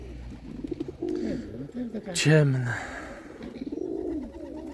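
Pigeons coo softly in short throaty bursts while someone talks over them nearby, with a louder flutter or call near the middle.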